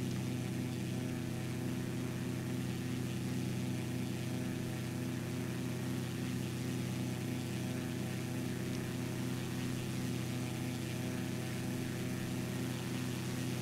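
Piston engine of a Cessna 210 in a flight simulator, a steady, even drone with a low hum that holds at one level throughout, alone with no talk.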